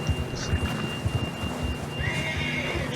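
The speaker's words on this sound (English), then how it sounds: "John was riding that horse when we left Blackwater" A horse in the Red Dead Redemption video game whinnies loudly over a steady patter of clip-clopping hooves, with rain-like ambient noise behind, close and continuous.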